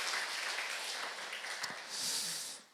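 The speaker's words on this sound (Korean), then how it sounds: "또 하나님께 영광의 박수 한번 함께 드립시다." A church congregation claps to give glory to God during a Sunday worship service, a broad wash of distant clapping that swells near the end and then tapers off.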